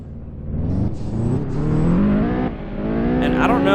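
A car engine in Roblox Realistic Car Driving Simulator revs up, its pitch climbing steadily through gear-like steps as the loud synthetic drone rises, dips and climbs again.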